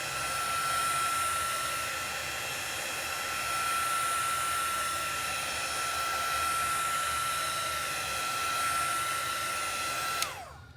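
A hair dryer blows on paint drying on a handmade snowman journal cover, a loud steady roar with a thin high whine that rises and falls slightly, then cuts off abruptly near the end.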